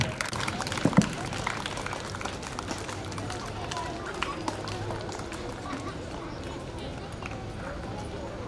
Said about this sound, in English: Keep clapping, everyone.